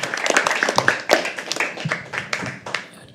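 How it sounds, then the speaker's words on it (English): Audience members at a live poetry open mic clap for a few seconds, sharp and uneven, fairly close, with no voices over it. "Clap like you mean it."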